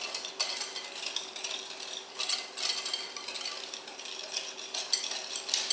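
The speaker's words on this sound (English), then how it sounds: "I'm going to whisk all of this together" A whisk clinks and scrapes briskly against a bowl, blending cornstarch and sugar for an apple pie filling, with quick rhythmic strokes repeating close up throughout.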